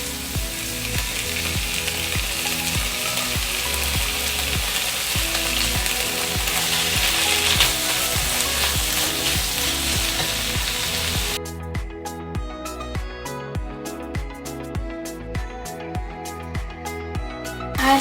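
Tuna frying in a pan with onions gives a steady close sizzle with rhythmic scraping and clicking for about eleven seconds, then it drops to quieter, sparser crackles.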